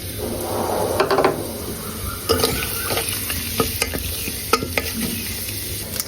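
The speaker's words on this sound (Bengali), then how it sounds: "তারপরে আমি ফোড়নে দিব এই যে গরম মশলা গরম মশলায় আছে দারচিনি দুইটা এলাচ চার পাঁচটা গোলমরিচ আর গোটা জিরা" Whole spices, cinnamon, cardamom, black pepper and cumin, crackling in hot oil for beef nihari, with a busy sizzle and repeated sharp clicks and scrapes of stirring against the pot, close and continuous.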